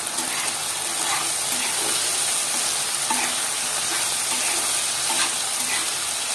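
Silkworm pupae sizzle in a hot pan while being stirred, a dense, continuous frying hiss that holds steady and close throughout without any voices.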